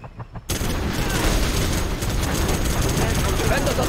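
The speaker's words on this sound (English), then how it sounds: "Our minigun will destroy the enemy." Minigun fire from the video game C&C Generals Zero Hour, a dense unbroken roar of rapid shots that starts abruptly after a brief quiet moment and stays loud and sustained to the end.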